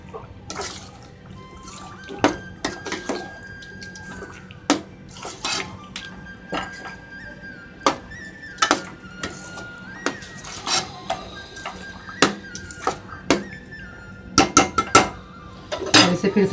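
Ginger chicken curry being stirred in a pot with a metal spoon, giving scattered, close clinks and scrapes against the pot at an irregular pace over a soft background hiss.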